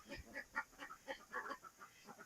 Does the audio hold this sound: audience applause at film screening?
no